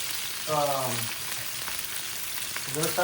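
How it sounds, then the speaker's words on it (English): Continuous crackling sizzle of bacon frying in a hot pan, with a brief voice-like harmonic sound appearing twice over it. "The bacon's already frying."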